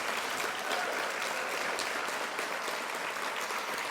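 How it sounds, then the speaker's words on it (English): Sustained audience applause at a Senior Advocate Hall of Fame induction ceremony honoring inductees, steady dense clapping throughout, fairly distant with no talking over it. "let's have a nice big round of applause for a special night of inductees"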